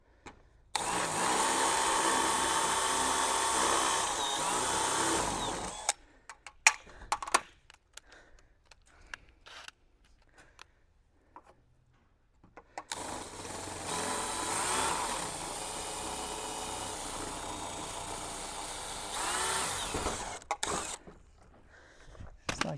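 A power tool drills a rivet out of a vinyl gate, whirring in two sustained runs of several seconds each. Between the runs come scattered clicks and handling noises, and the whole thing stays fairly quiet.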